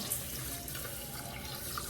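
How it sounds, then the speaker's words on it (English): Water running steadily from a kitchen tap into a pot of chili beans, a brief continuous splashing rush heard close by. "I'm gonna go ahead and water that up."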